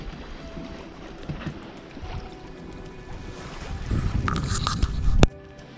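A sailing boat glides through open water at about 4 knots in light wind, with a continuous rushing wash and wind noise that swells gradually before a brief sharp knock near the end.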